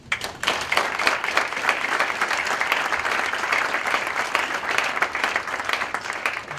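Sustained, even applause from a panel audience fills the room for several seconds after a professor is introduced, a steady dense wash of clapping with little speech.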